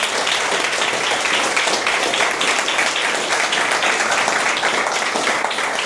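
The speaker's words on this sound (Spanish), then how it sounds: "Dale un fuerte aplauso al Señor." A church congregation claims in sustained, dense applause that fills the whole stretch, loud and continuous with no talk over it.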